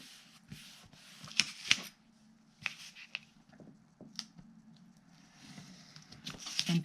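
Scissors trim excess paper from a handmade spring basket, giving a run of crisp, close snips and small rustles with short pauses between cuts. No one speaks.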